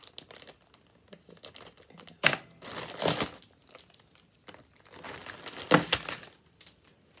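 A craft kit package for making unicorns is cut open close up. Quiet crinkling plastic and rustling come first, then two louder bursts of crumpling and tearing a few seconds apart.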